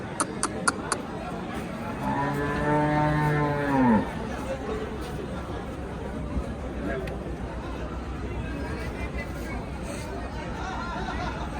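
A water buffalo gives one long, loud moo lasting a couple of seconds at a livestock market, over steady outdoor background noise and faint distant chatter.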